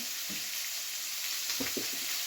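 Salmon meatballs with vegetables stewing in a pan give a steady soft sizzle, with a few brief scraping stirs of a utensil partway through.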